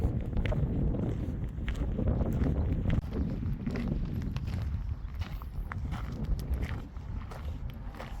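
Strong wind buffets the microphone at Carhenge in Alliance, Nebraska, a steady loud roar and rumble of gusts filling the whole stretch with no talk.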